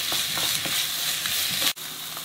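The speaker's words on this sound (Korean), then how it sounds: "마늘 기름이 나뒀으면 여기에 어묵을 넣어주세요." Fish cakes drop into hot garlic oil in a frying pan, giving a loud, steady sizzle with stirring clatter close up, cut off abruptly near the end.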